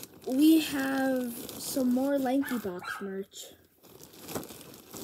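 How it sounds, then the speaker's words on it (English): A pet dog barks in a home setting, short yips breaking through over a person talking close up, with crinkling packaging noises nearby. "I'm sorry if you hear barking, that's just my dog"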